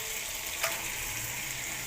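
Chicken pieces sizzling in a hot pan for kosha chicken, a steady broadband fry with one brief louder crackle near the middle, close and continuous with no talking.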